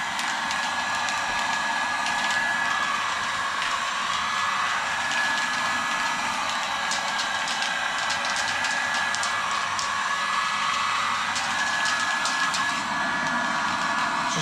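Hair dryer blowing on the corners of a boat, a steady loud whirring blower noise with a constant high whine, running continuously throughout.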